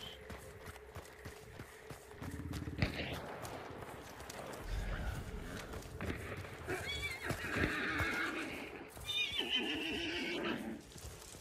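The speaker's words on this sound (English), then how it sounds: "horses and horses." Horses neigh repeatedly in the video game Hunt: Showdown, loud whinnies rising over clopping hooves and rustling movement, with a player talking over them.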